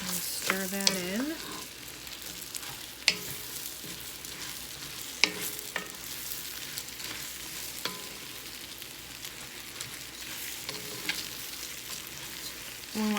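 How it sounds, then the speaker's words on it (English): Zucchini stirred into a pan of lamb risotto, giving a soft, steady sizzle throughout with faint scraping and clinks of the utensil against the pan, close and fairly quiet, with no talking. "And I'm going to stir that in."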